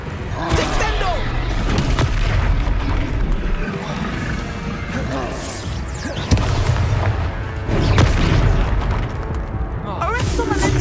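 Heavy booming spell impacts slam down in the Hogwarts Legacy video game, a series of loud explosive hits and crashes spread across a chaotic battle, with voices talking over the din.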